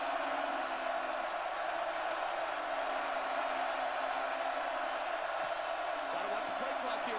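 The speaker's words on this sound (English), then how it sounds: "this crowd is up. It's alive. Listen in on 3rd down and 10." A packed K-State football stadium crowd roaring on third down against Baylor, a dense, sustained wall of distant cheering and whooping that holds steady throughout.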